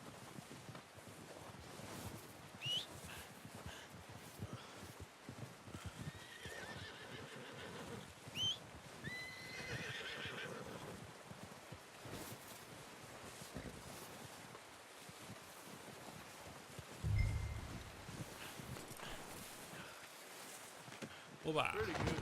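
A horse in Red Dead Redemption 2 whinnies a few times over soft wind and faint hoof clip-clop outdoors, the calls rising and falling at moderate distance amid quiet ambience, with someone talking in places.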